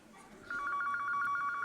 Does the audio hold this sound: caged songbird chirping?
no